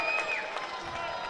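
Crowd noise at a secondary school boys' basketball semifinal, a steady, faint, distant wash of spectators with light applause-like texture throughout.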